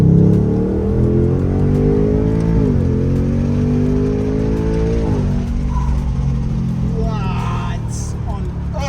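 A 2025 Ford Mustang GT with a naturally aspirated engine accelerates hard, its loud, close exhaust note rising in pitch and dropping back at gear changes, with faint tire noise near the end.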